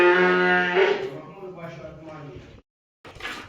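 A cow lows in a barn ahead of milking, a loud drawn-out moo with strong harmonics that fades into quieter sounds, followed by a short silence and then a brief burst of noise.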